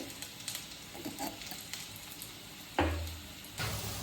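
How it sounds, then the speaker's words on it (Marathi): Potatoes frying in a pan for sabudana khichdi make a low, continuous sizzle broken by a few stirring clatters, quiet and close, with no speech. "आपला बटाटा छान फ्राय झाला आहे"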